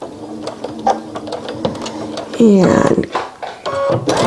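A sewing machine backstitches on a face mask, short bursts of mechanical whirring rising loudest in the second half, with a person speaking briefly over it.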